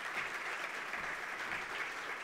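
Audience applause at a green hydrogen conference in Namibia, a steady, dense wash of clapping that holds at an even level throughout with no voices over it.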